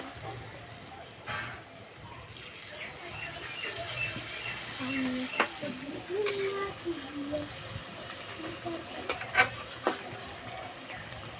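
Ripe mango fritters fry in hot oil with a low, bubbling sizzle and occasional stirring clatter, heard close. Someone talks over the cooking throughout.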